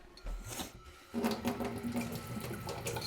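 Tap water runs into a kitchen sink for dishwashing, the water preheated to come out hot; a steady splashing gush starts after a brief quiet moment and continues close and loud to the end.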